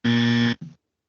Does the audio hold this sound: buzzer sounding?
yes